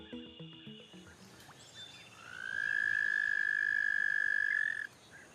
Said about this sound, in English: the riveting song commences as each male in the pond tries to out-croak each other